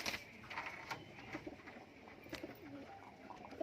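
Soft cooing from a Saharanpuri pigeon in a loft, low murmuring coos repeating under a steady background of other birds and faint chirps, fairly quiet and close.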